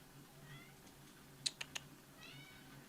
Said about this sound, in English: Well, hello, kitty cat.